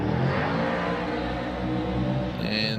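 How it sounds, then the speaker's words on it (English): A loud, roaring Formula Drift car engine with an X-Force exhaust revs hard during qualifying at Monroe, raspy, sustained and close, shifting pitch near the end. "Loud and proud X-Force exhaust into that outer zone"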